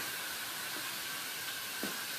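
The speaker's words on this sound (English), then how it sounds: "we're going to put our hose on shower mode, actually mist mode, and we're just going to wet this cardboard down." Garden hose on a fine mist setting spraying water onto cardboard for a commercial worm composter, a steady broad hiss that holds evenly throughout with no talking.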